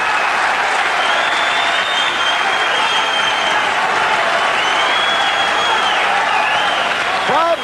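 Boxing crowd in London applauding steadily through a fight, dense clapping with sharp whistles rising above it, loud and sustained throughout.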